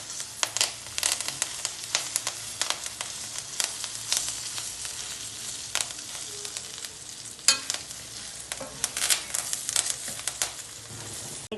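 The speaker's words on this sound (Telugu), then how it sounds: "కరివేపాకు వేయాలి. బాగా వేగనివ్వాలి." Curry leaves fry in a pan with a constant crackling sizzle. Many sharp pops and spatters come close and bright throughout, and no one talks.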